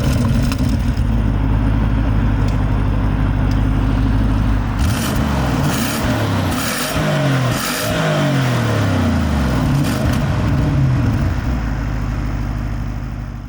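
Deep engine roar from a 2022 Bentley Flying Spur with a 4-litre twin-turbo V8, steady and loud, then rising in several sharp revs mid-way before settling back to a strong, sustained drone.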